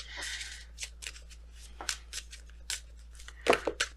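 A tarot card deck being shuffled close up, with a run of quick papery riffles and slides, then a louder cluster of snapping card flicks near the end. No talking over it, and a low steady hum sits underneath.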